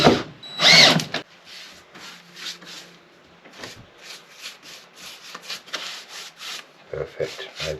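A power drill drives screws into wood inside a boat cabin, in short loud whirring bursts, most strongly at the start, followed by lighter rubbing and handling sounds and a few more quick bursts near the end.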